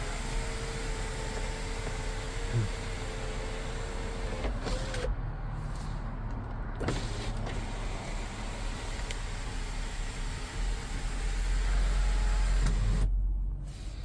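A faint electric sunroof motor whirs in short runs, starting and stopping a few times, with the quiet hum of a 2007 Toyota 4Runner V8 4WD interior in between.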